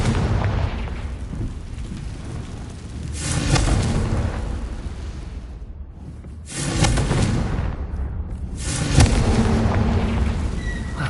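Repeated fiery blasts of the Confringo spell in Hogwarts Legacy, several loud rumbling explosions a few seconds apart over a continuous game-ambience roar.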